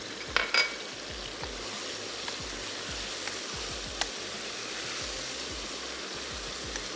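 Chana dal gosht with green chillies and garam masala frying in a pot: a faint, steady sizzle with a few light clinks of a utensil near the start and soft scraping stirs.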